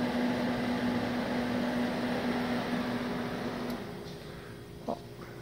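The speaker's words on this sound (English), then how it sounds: "You hear that fan on the dryer just turned on." The cooling fan on the air dryer of a three-phase Chicago Pneumatic 15 HP compressor switches on, a steady whir with a low hum, close and fairly loud, easing slightly softer toward the end, with a brief click near the finish.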